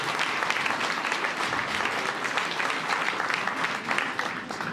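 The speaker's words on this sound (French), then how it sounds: "On peut l'applaudir" An audience at a medal ceremony in Saint-Soupplets applauds a worker receiving a gold labour medal for 35 years of service, a dense, even wash of clapping throughout at moderate distance.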